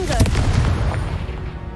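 A Confringo spell blast in a Harry Potter wizarding video game: a booming, rumbling burst with dense low-end energy and crackle, loud and close, fading over under two seconds.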